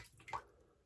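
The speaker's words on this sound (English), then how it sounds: "I'll dip my finger in my basin and get some water and literally just drip" Water drips from a fingertip into the knot of a shaving brush held over a basin, a single soft wet drop sound, close and faint in a quiet room.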